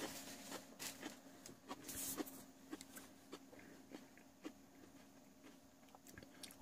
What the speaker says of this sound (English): I just showed up to eat celery at you.